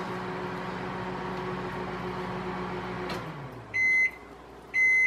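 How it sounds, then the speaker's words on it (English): Steady microwave oven hum with a low droning tone, winding down before two loud electronic beeps near the end. "That noise is my microwave."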